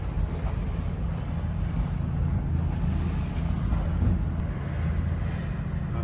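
Strong wind roars steadily across the microphone aboard a Nordhavn 47 motor yacht at sea, gusting around 31 knots, with a deep continuous rumble of wind and water and slight swells in intensity throughout.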